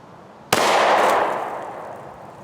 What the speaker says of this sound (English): next up is going to be the 10mm with the Hornady Critical Duty 175 grain FlexLock hollow point.